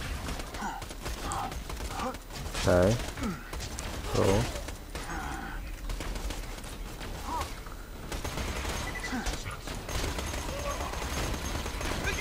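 Gunfire in the video game Borderlands 2 as shots are aimed at statues, bursts of shooting in a busy, steady game soundscape while players talk over it.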